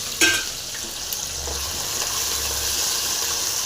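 Mustard seeds and sprouted sambar onions fry in hot oil for a drumstick curry. After a sharp clink at the start, a bright steady sizzle builds and holds, close and continuous.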